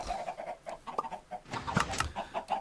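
Minecraft chickens on a farm cluck in a steady stream of short, clipped calls, repeated close together and fairly loud over faint game ambience.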